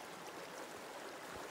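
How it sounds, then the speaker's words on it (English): A small creek runs through a weathered canyon in Oregon gold country, giving a steady, even wash of flowing water with no breaks and no voices. "this is a small creek, but you can tell by the way the canyon's weathered out that it gets running pretty good"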